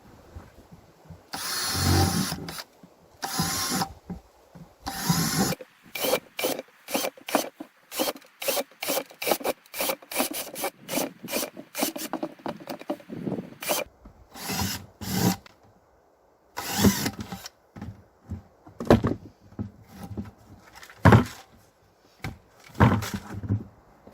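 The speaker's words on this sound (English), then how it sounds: "So I was drilling pretty fast" A drill grinds holes through a plastic catch basin in many short, rasping bursts, some quick and rhythmic, others longer, separated by brief pauses.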